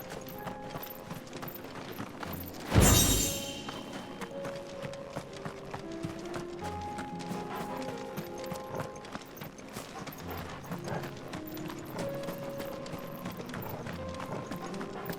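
Hooves of a horse galloping in the video game Final Fantasy XVI keep up a continuous rhythmic clip-clop, with one loud thud near the start, over a soft game background.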